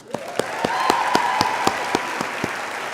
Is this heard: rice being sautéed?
no